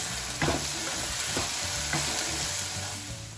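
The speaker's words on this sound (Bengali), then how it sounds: "এবার আমি এর মধ্যে জিরে আর শুকনো লঙ্কা যেটা বেটে রেখেছিলাম সেটা আমি দিয়ে দেবো" Ground cumin and dried red chili paste fried in hot oil for Bengali tel koi sizzle loudly and continuously. A few scraping stirs of a spoon in the pan punctuate the hiss up close.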